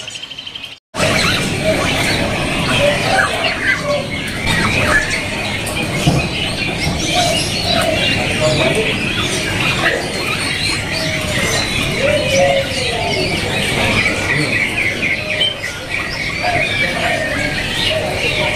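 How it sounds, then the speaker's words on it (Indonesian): Caged songbirds at a bird market kiosk chirp and whistle in overlapping phrases over busy market background noise, with cooing and occasional calls heard at moderate distance throughout. "Jadi untuk jenis burung Samyong pilihannya pun aman di kiosnya Mas Yandi"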